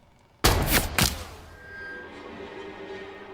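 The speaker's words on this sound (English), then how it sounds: "They're trying to shoot the bird?" Two sharp rifle-like bangs from hunters shooting at a bird in a movie teaser, close together and loud, followed by a lingering ringing tail and faint background tones.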